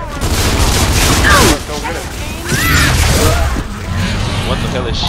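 Gunfire and explosions crackle in a multiplayer shooter game, with dense bursts of shots and booms packed together loud and close, and voices talking over the action.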